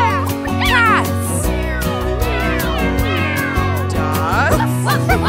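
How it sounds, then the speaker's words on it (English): Several cat meows repeat over a bouncy children's song backing, mixed with singing voices rather than standing alone. "Cats."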